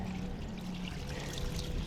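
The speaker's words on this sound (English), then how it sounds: "start pouring your water" Water pours out in a steady stream, a continuous soft trickling splash close by, used while cleaning a bike chain; nothing else is heard over it.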